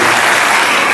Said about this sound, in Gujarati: તાળીઓથી આપણે વધારી દઈએ.